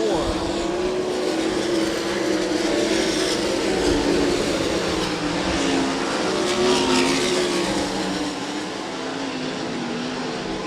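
Sprint cars race around a dirt oval raceway with a continuous loud engine roar that swells and fades as the pack passes, while an announcer talks over the track noise.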